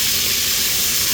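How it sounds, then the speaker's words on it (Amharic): Onion, ginger, tomato and garlic fry in a pan, giving a loud, continuous close-up sizzle and hiss throughout. "ያዘጋጀነውን ጥብስ እናደርጋለን።"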